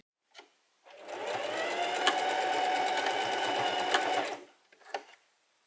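A sewing machine stitches a fabric face mask in one steady, fast mechanical run of about three seconds, framed by brief clicks and taps before and after; close and clear with no talking.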